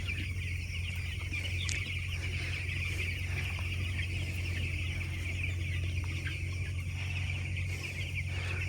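Chickens on a village poultry farm cluck faintly and intermittently over a constant low mechanical hum, heard from a distance, with no one speaking.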